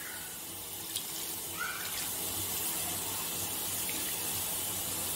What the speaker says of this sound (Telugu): ఒక 2 కప్స్ వాటర్ పోయాలి